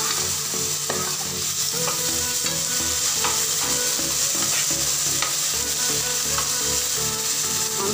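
Onions and tomatoes fry in a pan for mushroom biryani, a loud continuous sizzle and crackle close by, with scattered scraping and clicking stir strokes throughout.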